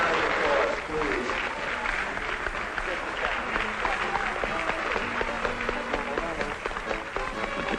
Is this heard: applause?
yes